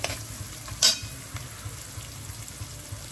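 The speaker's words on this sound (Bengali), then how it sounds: "এই চিকেন আমি দিয়ে দিলাম। ভালো করে নাড়াচাড়া করে" Chicken pieces stirred into fried onions in a pan over high flame, a continuous close sizzle with one sharp spatula scrape and soft stirring knocks, no talking.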